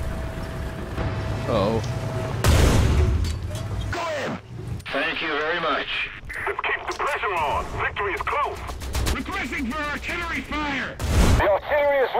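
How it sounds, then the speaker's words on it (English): Artillery fire in the War Thunder combat game: heavy bursts and booms amid battle noise and radio chatter, with a loud impact near the start and another toward the end, while voices talk throughout. "The artillery is ready. Roger that. Artillery, fire."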